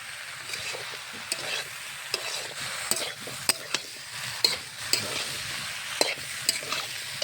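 Spices are sautéed in a pan for a bottle gourd and prawn curry. A soft, steady sizzle runs under repeated sharp scrapes and clicks from the stirring utensil.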